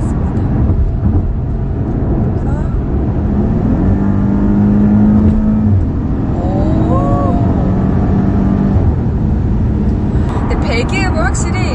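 Maserati accelerating on an open road near Gangneung, its exhaust note a loud, steady engine rumble with rising and falling tones, while a voice talks over parts of it.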